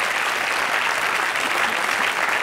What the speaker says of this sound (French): Moi j'applaudis.